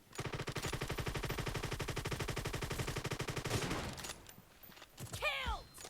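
Gunfire in the PUBG Mobile video game: a long, rapid, evenly paced stream of loud shots that stops abruptly, followed by scattered clatter and a brief swooping effect.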